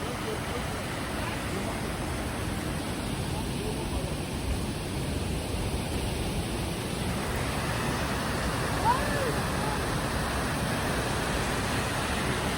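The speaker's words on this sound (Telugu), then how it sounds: "సో చాలాసేపు ఫామ్స్లో మొత్తం నడిచిన తర్వాత ఇంకొక వాటర్ ఫాల్ అనమాట ఇది." The Ingleton waterfall on the UK trail gives a steady, broad roar of falling water, unbroken and moderately loud throughout.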